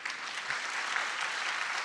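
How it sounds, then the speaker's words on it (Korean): A church congregation at a Friday evangelism meeting claps steadily, a dense, even wash of applause from a large indoor crowd, moderately distant and without voices. "격려의 박수를 Un gran 주시겠습니다"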